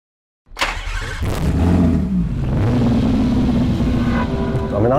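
Kamaz Dakar rally truck, a 20,000 lb machine, roaring past on a course, its engine bursting in loudly and holding a heavy, sustained growl with shifting pitch as it accelerates.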